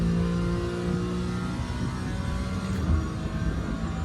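GT4 race car engine in the iRacing simulator at Knockhill, a steady loud droning whine held at high revs through the whole stretch, with no clear break for a gear change.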